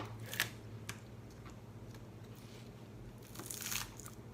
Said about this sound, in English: First, we're going to cut off the stems of our spinach and then set those aside.